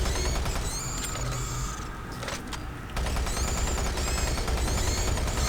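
Rapid automatic gunfire in the shooter game Doom 3 BFG Edition, a dense rattling stream of shots with mechanical clanks, briefly easing near the middle before resuming at a fast, steady rate.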